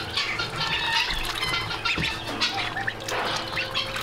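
Ducklings in a larger bin dabble and sip at their water, with steady wet splashing and soft peeps and squeaks throughout, close and moderately loud.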